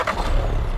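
A truck in the video game Fortnite rumbles nearby with a low, steady engine drone, heard briefly and fairly loud, with no talking.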